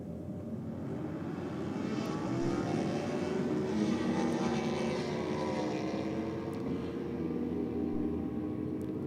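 Drag racing motorcycles launch down the strip at a bike night event, their engines a loud, steady roar that swells and holds with rising and falling whine across the whole stretch.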